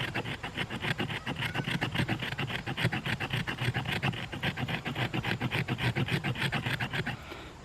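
A 90-degree knife spine scraping rapidly and rhythmically back and forth, a dense run of close, dry rasping strokes that slows slightly at the end.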